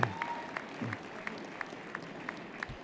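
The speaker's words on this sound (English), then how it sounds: "Let's all give the family and friends a round of applause." Audience at a university convocation ceremony claps for family and friends, a fairly quiet wash of applause with a few distinct sharp claps and a brief voice at the start.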